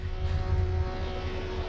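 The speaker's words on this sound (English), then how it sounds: "Somebody's engine is over revving." A car engine in a sim racing game screams at high, over-revving RPM, giving a steady buzzing drone with stacked tones that holds for a moment without talk.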